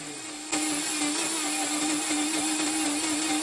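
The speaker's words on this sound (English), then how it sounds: "So I just wanted to show you that Vitamix and how well it works" A Vitamix blender runs steadily at high speed, starting abruptly after a brief quiet moment and holding a loud, constant motor whine with churning as it works bread dough.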